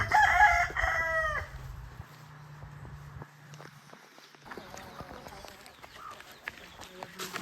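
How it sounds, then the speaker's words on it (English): A rooster crows loudly at the start, then quieter clucking follows alongside shuffling footsteps and faint background voices. "Look at all these chickens."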